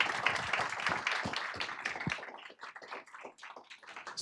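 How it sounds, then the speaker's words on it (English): Quiet applause from a small audience at a cybersecurity policy event, with close, distinct hand claps that thin out into scattered claps toward the end. "Everyone, please give a nice round of applause."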